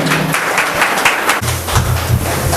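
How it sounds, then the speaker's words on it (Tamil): An audience applauds at a Kamaraj birthday celebration ceremony. The clapping is dense and continuous, loud and close, and a low hum runs underneath. "கைத்தட்டி உற்சாகப்படுத்துமாறு கேட்டுக்கொள்கிறோம்"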